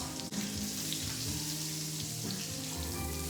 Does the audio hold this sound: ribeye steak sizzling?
yes